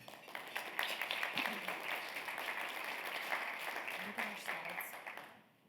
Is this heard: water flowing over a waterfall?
no